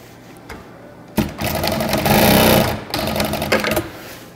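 A Consew 2206 industrial sewing machine starts up and runs in a loud, steady mechanical whir for a couple of seconds, then slows and stops, close with no talking over it.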